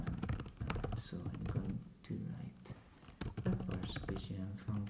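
Someone writes code on a computer keyboard, producing rapid clustered key taps in irregular bursts, close and clear, with soft speech at times.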